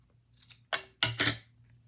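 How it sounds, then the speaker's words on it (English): Three crisp snips from a large pair of scissors, the last two close together, sharp and near against a quiet room. "I'm using a very big pair of scissors, which probably doesn't help much because they're making a lot of noise"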